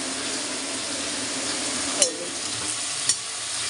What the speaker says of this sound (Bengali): হাতা আছে, হাতা দিয়ে নেড়ে দেবো